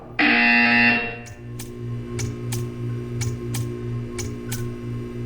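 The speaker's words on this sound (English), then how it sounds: "You will hear a buzzer. When you hear the buzzer, stare at the art." A loud electronic buzzer tone from the video game Portal 2 blares for about a second, then gives way to a steady ticking pulse and a low hum that carry on for several seconds.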